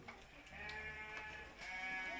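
Sheep bleat on a farm during a school field trip, giving a quiet, drawn-out wavering cry that blends into a second bleat, heard faintly with no voices over it.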